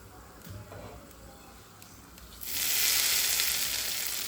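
Tempering for coconut chutney hitting hot oil, a quiet stretch with faint clinks, then a loud sustained sizzle bursting in halfway and continuing to the end.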